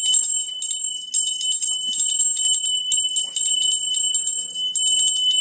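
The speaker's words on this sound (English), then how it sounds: "So, let's ring the bell real quick." A bell rings repeatedly in rapid, bright strikes, loud and close, with sustained shimmering overtones that carry continuously throughout.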